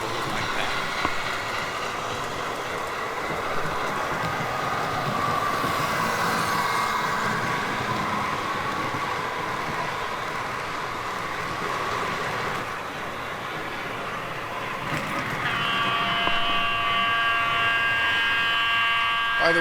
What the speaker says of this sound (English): Everybody seems to like views with the trains coming at the camera